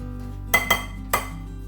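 Pancake batter with chocolate chips mixed in a bowl with a Danish dough whisk: three bright clinks of metal against the bowl, two close together then one more, over a low steady hum.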